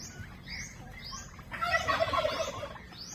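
Turkeys feeding on a farm, with clustered gobbling and clucking calls rising in the second half over a steady background murmur, fairly close.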